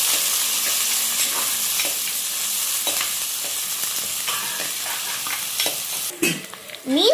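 Small peeled, sliced onions sauté in hot oil for fish curry, a steady loud sizzle with soft stirring scrapes, ending in a few louder clatters of the spoon against the pan.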